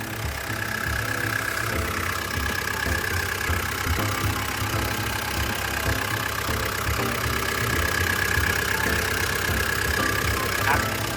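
A Komatsu WA100-7 wheel loader's turbo diesel engine idles steadily nearby, a continuous rumbling drone with a faint high whine running over it.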